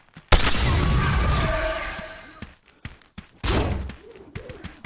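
Modded gunfire in the VR game Blade and Sorcery: a loud sustained burst of shots that decays, then a few short thuds and a second sharp burst, with silence between.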